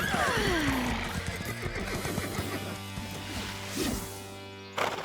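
Cartoon horses give a loud, sweeping whinny that falls in pitch, followed by hoof clatter and snorts, with a second short neigh and a sharp knock near the end.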